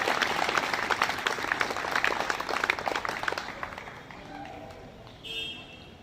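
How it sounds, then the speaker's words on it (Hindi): An audience at a public awareness event applauds loudly to welcome a member of parliament, dense crowd clapping that fades out after about four seconds, followed by quieter room sound. "एक बार जोरदार ताली ध्वनि से हम सभी उनका स्वागत अभिनंदन करें"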